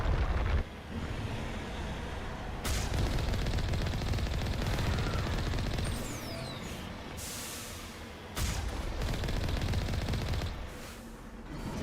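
A Gatling gun fires in the video game Mass Effect, in long continuous bursts of rapid gunfire that stop and resume, loud and close with no talk.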